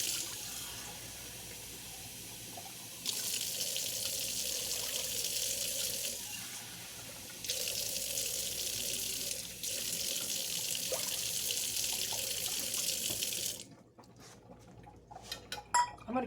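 Water runs from a kitchen tap in steady bursts, filling a jar of doubled sourdough starter with 1.5 cups of water, with faint clinks of glass and utensils near the end.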